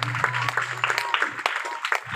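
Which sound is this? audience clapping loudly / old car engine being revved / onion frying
audience clapping loudly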